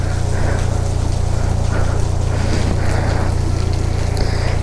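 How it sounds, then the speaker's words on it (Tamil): Heavy monsoon rain pours down in a steady, dense hiss during a motorbike ride on a KTM Duke 390, with a constant low engine and wind rumble underneath. "பார்த்தீங்கன்னா செம்மையாக மழை பெய்யுது."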